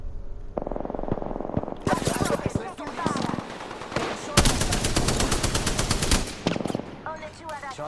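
Rapid automatic gunfire in the game Apex Legends, with several loud sustained bursts and single shots in close succession, mixed with game effects and a faint voice underneath.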